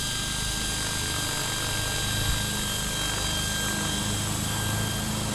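A DJI Wookong-S scale RC helicopter hovers and yaws nearby, its rotor and motor giving a steady, loud, unbroken drone with a constant high whine throughout.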